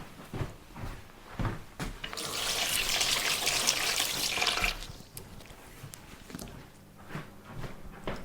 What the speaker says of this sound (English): me wash my hands.